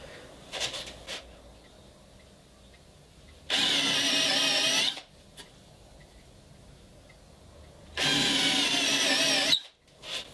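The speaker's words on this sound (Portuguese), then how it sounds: "E aí nós vamos furar, vamos fazer um furo em cada extremidade." An electric drill bores holes into a wooden workpiece at each end of a mortise for a tenon, with two loud, steady whirring bursts of about a second and a half each, separated by quieter handling noises.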